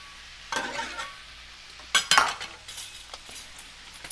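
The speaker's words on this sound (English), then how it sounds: "I use 2 tablespoons of that, and I mix it in pretty good" Stirring fajita seasoning into vegetables in a hot pan, a spoon scraping and clinking against the metal in a few distinct strokes over a faint sizzle, close up and without speech.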